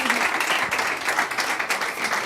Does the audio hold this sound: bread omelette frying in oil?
no